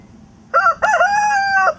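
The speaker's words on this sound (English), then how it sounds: "These are chickens." A farm rooster crows once, loud and close, a single drawn-out cock-a-doodle-doo lasting just over a second against faint background noise.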